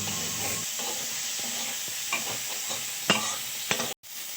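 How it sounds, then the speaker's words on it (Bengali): Fried prawns being stirred into a spice masala with ginger in a pan for a prawn malai curry, a steady close sizzle with repeated scraping stir strokes and a brief break near the end. "এবার আমি ভাজা যে চিংড়ি মাছগুলো ছিল ওগুলো দিয়ে আরও ভালোভাবে কষিয়ে নেব।"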